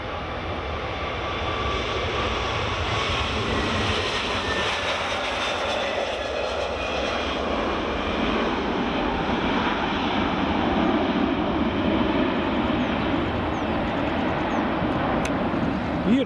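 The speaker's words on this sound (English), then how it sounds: "That's the JetBlue off and away." A JetBlue airliner takes off at Edinburgh Airport with a loud, sustained broadband jet roar and whining engine tones that stay strong throughout, heard alone without voices.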